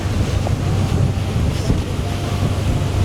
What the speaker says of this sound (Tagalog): Malakas ang hangin, malamig, pero sige lang.